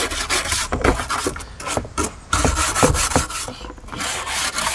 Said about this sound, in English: I want the plastic scrubbing up against the concrete. And just give it a scrub.